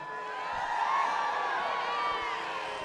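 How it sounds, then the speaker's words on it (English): A large crowd cheers, whoops and claps without a break at an evening university celebration on an outdoor lawn with student performers, a loud, dense wash of voices and clapping that holds steady for about three seconds. "Let's get another big round of applause for our amazing MCs."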